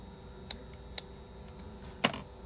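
Scissors cut nylon cord in a few sharp, quiet snips at a steady pace, with a louder crisp cut near the end, set against faint room hum.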